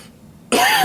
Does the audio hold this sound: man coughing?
yes